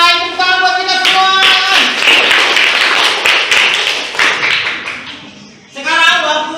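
A classroom of students claps together during a teaching simulation, a dense burst of applause between stretches of a speaking voice at the start and end.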